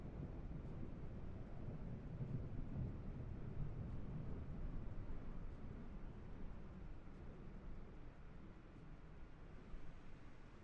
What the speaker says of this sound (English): Ooh, you can hear the thunder.